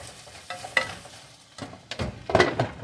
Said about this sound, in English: This, you hear it sizzling.